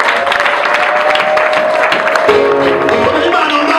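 A church congregation claps loudly and continuously in praise of God, a dense wash of hands with a steady tone and voices running underneath.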